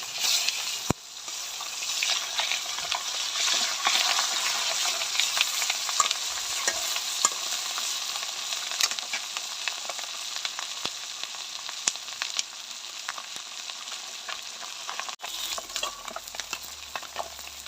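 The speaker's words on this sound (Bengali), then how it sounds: "এবার আমি মাছগুলো উল্টায় পাল্টে ভালো করে ভেজে নিব।" Steady, loud sizzling of fish being turned and fried in hot oil, with occasional sharp crackles and pops throughout.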